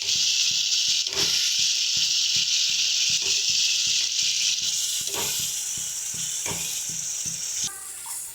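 Masala with tomato and a splash of water sizzles steadily in a pan for a coconut prawn dish, with a spoon tapping and scraping in a regular rhythm throughout.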